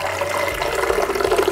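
Hot water pours steadily into a vessel to make an herbal drink, a continuous close splashing and trickling stream with no talk.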